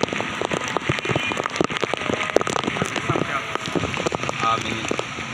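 Steady heavy monsoon rain in Karachi patters densely on a surface nearby, a continuous crackling hiss with sharp drop impacts throughout.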